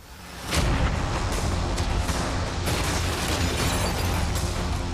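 Cannons firing at a yacht in a large outdoor challenge, a heavy booming blast that swells into a loud, sustained rumbling roar with crackling bursts.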